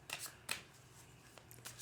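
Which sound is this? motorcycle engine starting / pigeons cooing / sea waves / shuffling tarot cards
shuffling tarot cards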